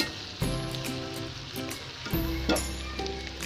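Fried rice sizzling in a hot pan, a steady close crackle and hiss with a few sharp clinks of a spoon against the pan.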